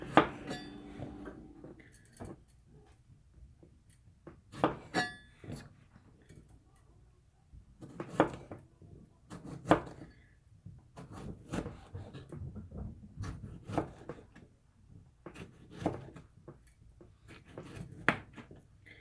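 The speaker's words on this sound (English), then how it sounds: "we're going to cut the tomato widthwise into about 1/4 inch thick slices" A knife slices a tomato widthwise on a cutting board, giving soft, separate taps and thuds at an irregular pace, quiet and close, with faint background sounds between the cuts.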